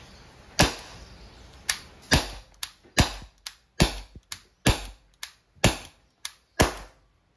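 An Umarex T4E .50 caliber CO2-powered airgun revolver fires about a dozen sharp, snappy pops at uneven intervals of roughly half a second to a second, each with a short decay, close up and without speech.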